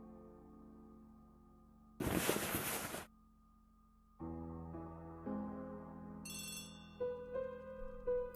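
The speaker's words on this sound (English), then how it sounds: "It's the phone!" Telephone ringing indoors, a burst of noise followed by a series of electronic tones and chiming notes that step up in pitch, moderately loud with no voices.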